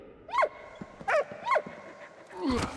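Dog in the video game Valiant Hearts whimpering, a few short high whines in quick succession followed by a softer breathy pant, close and alone.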